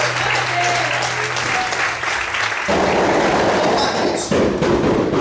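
A church congregation claps together in sustained applause, the clapping swelling louder partway through and continuing to the end.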